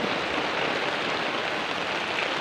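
Heavy rain pours steadily with a dense, even hiss of drops striking surfaces, continuous and close with no pauses and no voices.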